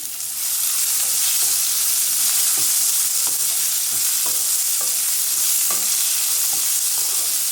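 Medium onions sliced into rings frying over a medium flame for a spicy ivy gourd and onion dish: a steady, close sizzle runs throughout, broken by light clicks and scrapes of stirring in the pan.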